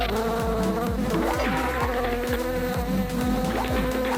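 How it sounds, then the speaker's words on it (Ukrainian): Dense, close swarm of bees buzzing continuously, a loud layered drone with overlapping pitched hums and no voices over it. "О-оу, це не цукерки. Допоможіть! Це бджоли! Рятуйте!"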